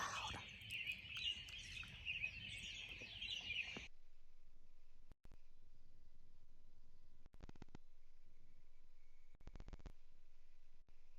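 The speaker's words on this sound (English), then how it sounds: "The birds are so loud." Dense, loud bird chirping at dawn, around 5:30 in the morning, fills the first few seconds, then cuts off abruptly, leaving a quiet interior hum with occasional faint clicks.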